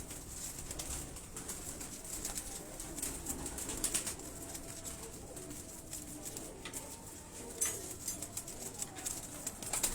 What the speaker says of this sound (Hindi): ये सारे इस वक्त जुरे फैमिली के कबूतर खड़े हुए हैं